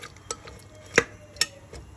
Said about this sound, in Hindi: मिक्स करने के लिए जरा सा हमको इसको चला दें